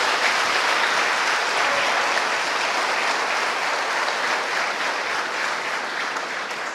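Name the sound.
congregation applauding in church service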